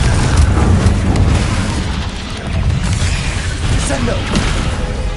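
Confringo fire-blast spell in Hogwarts Legacy, heavy booming bursts and crackling impacts amid continuous dense battle noise, with a voice speaking over parts of it.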